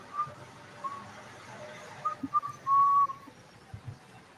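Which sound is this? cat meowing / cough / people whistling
people whistling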